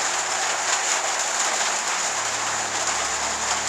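Heavy monsoon rain drums steadily on a roof during an Arizona desert storm, a dense, close patter with no pauses or voices.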